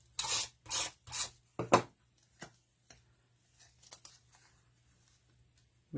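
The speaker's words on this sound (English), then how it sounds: "I'll just use my rubber and just take off those tiny little pencil lines" A rubber eraser scrubs pencil lines off a card in four quick rasping strokes, followed by fainter, sparse rubbing and paper handling sounds at close range.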